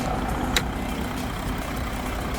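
Volkswagen Touareg V6 3.0-litre diesel engine idling steadily with a low rumbling drone, recorded nearby with no talk.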